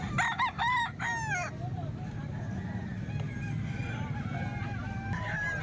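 A rooster at a Filipino poultry seller's crows loudly and close for about a second and a half at the start, followed by lower clucking and background chatter as people talk throughout.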